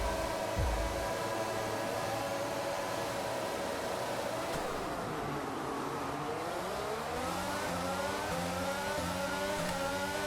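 Race cars in F1 22 rev at the start of a race on soft tyres, engines roaring loud and continuous as pitches climb and shift through gears, several cars layered together with no talking.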